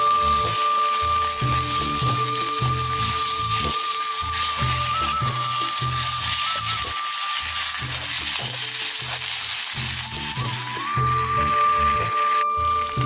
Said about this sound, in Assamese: আজি ভাজি বনাইছোঁ যে, বইল নাই বনোৱা, তেলত বনাইছোঁ